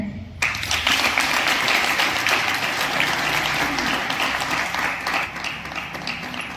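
A crowd claps at a yoga camp event, dense sustained applause starting sharply after a brief pause and holding at an even, fairly loud level to the end.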